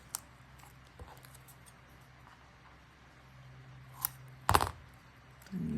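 Scissors snip once through a paper embroidery floss wrapper, a short, crisp cut near the mic against a quiet room, with a few faint handling ticks around it.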